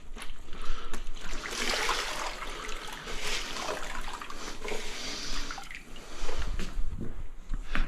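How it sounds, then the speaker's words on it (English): Running water rinsing out a sponge used for wiping white grout, a steady close splashing and trickling wash with no voices. "A rinse out of my sponge."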